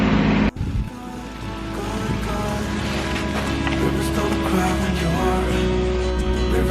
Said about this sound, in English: there's the little baby bilge pump